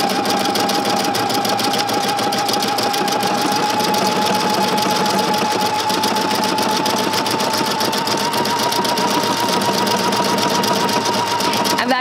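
A sewing machine fitted with a three-hole cording foot stitches cords onto fabric in one steady, loud, continuous run with a fast even rhythm.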